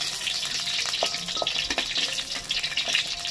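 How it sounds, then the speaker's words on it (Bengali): Cauliflower pieces fry to a reddish brown in oil, a continuous crackling sizzle heard close up with occasional stirring taps, no talking. "পুরো এইভাবে লাল করে ভেজে নিচ্ছি।"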